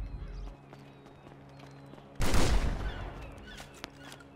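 Shotgun blast in GTA 5: one sudden, loud, broadband shot partway through, decaying over a second or so, following quieter game ambience and a small click.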